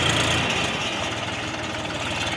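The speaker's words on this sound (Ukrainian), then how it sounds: "Даний трактор має двигун КМ-385" A Bulat 244 mini tractor's KM-385 diesel engine idles steadily nearby, a low, even chugging rumble that holds constant throughout with no voices.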